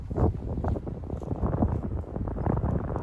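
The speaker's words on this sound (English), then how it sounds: "you can hear that wind too." Wind blows across the microphone on an open disc golf course, a steady, loud, low rumble with gusty swells that lasts throughout, with no talk.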